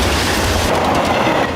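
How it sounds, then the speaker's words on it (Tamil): A train rumbles past close by on the tracks, a loud, continuous roar of wheels and rail noise. "அந்த ட்ரெயின் வந்துருச்சு சார்."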